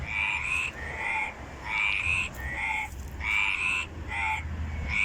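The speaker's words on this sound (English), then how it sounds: "I think those are freaking frogs." Frogs croaking on the Canary Islands in a loud, continuous chorus of repeated calls that pulse in regular bursts roughly every second, close and clear with no talking.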